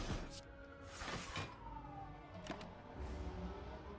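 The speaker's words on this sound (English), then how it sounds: "Siren's going on outside, apologies about that." A siren wails faintly from outdoors, its rising and falling tones sweeping under a quiet indoor room, with a couple of brief knocks along the way.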